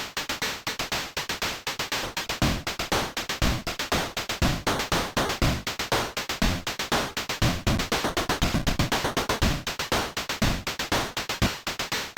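A steady, fast chiptune hi-hat pattern made in Ultrabox ticks alone in a tight, repetitive rhythm, with crisp noisy hits and no other instruments.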